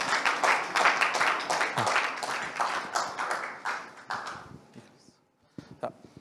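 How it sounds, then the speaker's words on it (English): Audience applause at a brigade conference workshop, a dense burst of clapping that runs for several seconds and then thins out and fades, leaving a few scattered claps. "I think round of applause for Dr."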